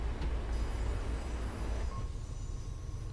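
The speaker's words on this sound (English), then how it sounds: "hear the engine going" A video-game MBTA commuter rail express train on the Worcester line rumbles steadily with heavy low-frequency engine drone, a thin high whine and brief squeals over the running noise.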